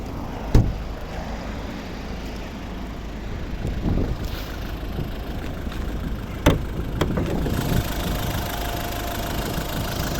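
A 2012 Volvo V50 with a 1.6 HDI diesel engine idles steadily under the open bonnet, a constant low mechanical rumble broken by a couple of sharp clicks, growing slightly louder near the end.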